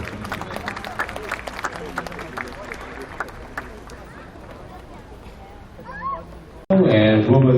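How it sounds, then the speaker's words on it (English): Audience applause for a volunteer at a Singapore Police Force show breaks out loudly in the final second, after a stretch of speech and background noise. "Ladies and gentlemen, a round of applause for our volunteer Brendan here."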